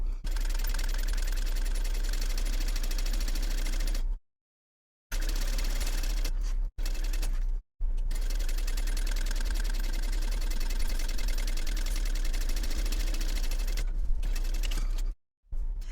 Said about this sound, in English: I'm going to top stitch both sides of the webbing onto my exterior